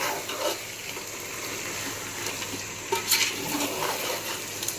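Chicken biryani with onions and masala is stirred in a pot, giving a soft, continuous scraping and wet shuffling with a few louder clinks of the spoon against the pot.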